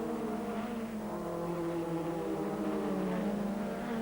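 British touring cars racing in 1997, a steady continuous engine drone with sustained tonal whine held throughout, close and loud with no break.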